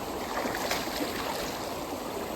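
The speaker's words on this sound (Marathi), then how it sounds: "आता तोंड आपण धुवून घेऊया" Steady broadband water splashing and trickling outdoors as someone washes their face after farm work, continuous and fairly close with no talk.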